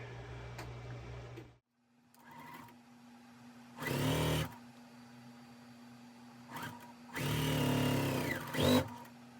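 A sewing machine stitches quilt block pieces together for a pressed flowers quilt, two distinct bursts of fast whirring motor and needle clatter separated by quieter pauses, close and clear with no talk.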